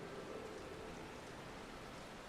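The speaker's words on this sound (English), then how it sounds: "Of course it's raining." Steady rain falls in Final Fantasy XIV as a soft, even hiss with no breaks, faint and continuous throughout.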